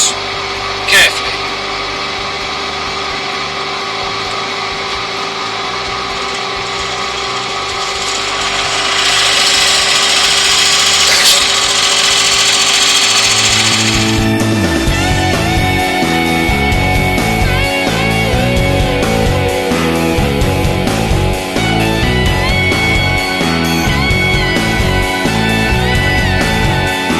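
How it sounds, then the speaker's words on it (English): A 35mm Forstner bit bores into a yew goblet blank spinning on a slowed woodturning lathe, a loud steady whine and grinding that builds midway, then gives way to rough chattering cutting noise. "I've slowed the lathe down, and now I'm just going to pass the Forstner bit, which is 35mm, into the piece, carefully."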